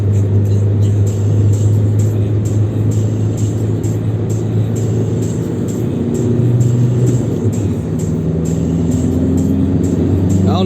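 A modest 140-horsepower diesel car accelerates, heard from inside the cabin as a loud, continuous engine drone with rising tonal whine. Pitch steps up through the gears as revs build toward 3500 rpm.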